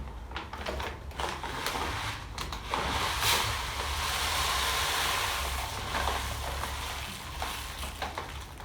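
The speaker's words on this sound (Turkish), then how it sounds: "Şimdi hemen kumumuzu, kumumuzu dökelim." Cat litter poured into a freshly cleaned litter box, a close, continuous granular hiss and rattle that swells over several seconds and then tapers off, with no talk.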